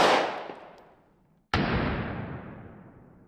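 Two loud, sharp 5.56 tracer rifle shots from an ACR, about a second and a half apart, each trailing off in a long echoing decay.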